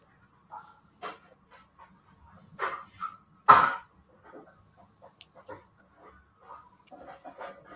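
A noisy dog giving short, scattered barks and huffs at close range, irregular and uneven in loudness, with quiet pauses between them.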